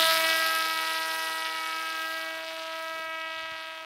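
Small fixed-wing mapping drone after a hand launch down a runway, its electric motor giving a steady high whine with stable tonal harmonics, loud at first and easing slightly as it flies off in light wind.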